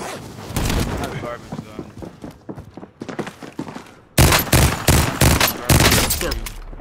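Rapid gunfire bursts in a Call of Duty match, a busy run of cracking shots that grows denser and louder partway through, with players talking over the shooting.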